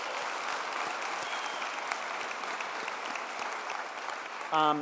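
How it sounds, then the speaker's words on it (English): A roomful of people claps steadily at a fireside chat honouree event, broad and even applause filling the space, with a brief voice cutting in right at the end. "So let's give Aubrey a big round of applause."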